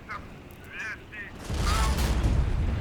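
A tank cannon fires in a video game and the round strikes an enemy turret, a heavy low boom bursting in halfway through and rumbling on loudly, after quieter mechanical clicks and beeps.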